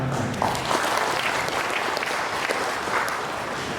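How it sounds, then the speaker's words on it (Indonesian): Steady, dense applause from a crowd fills the whole stretch at an even level, continuous clapping with no pauses. "Tepuk tangan."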